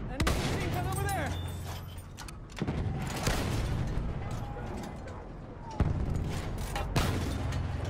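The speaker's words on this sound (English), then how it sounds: "Enemy machine gun over there!" Enemy machine gun fire in a video game, sharp bursts and single cracks spread across the scene while a player shouts over the action.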